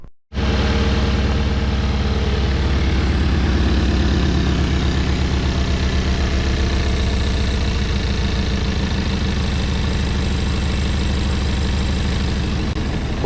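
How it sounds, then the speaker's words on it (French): A Seat Cupra 2.0 TSI four-cylinder engine idles after repair, with a small exhaust leak, settling into a loud, steady, close rumble right after starting and running alone throughout. "Bon, ça tourne sur 4 cylindres."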